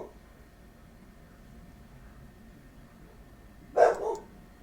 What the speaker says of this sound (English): I'm sorry about the dogs, guys.